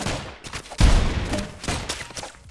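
Gunfire in a video game: a quick run of sharp shots with one heavier blast near the middle, followed by scattered lighter cracks, all fairly loud and close.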